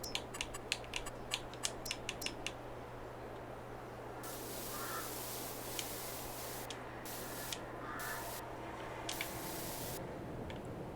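Rapid clicking of game controller buttons during Farming Simulator 22 play, a quick burst of sharp clicks early on, then sparser taps over a steady low hum and hiss.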